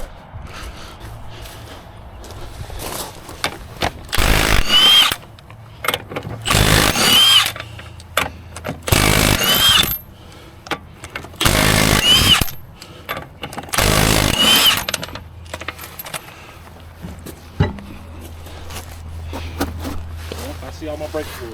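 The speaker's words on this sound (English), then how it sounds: "let's jack up this wheel" A power tool runs in five loud bursts of a few seconds each while a car wheel is jacked up during a brake fluid leak repair, with quieter gaps between and talk in the background.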